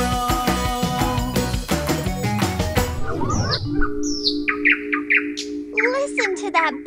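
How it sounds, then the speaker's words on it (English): A bird chirps and trills in bright, short phrases after children's music fades out, the notes close and clear. "Listen to that bird sing."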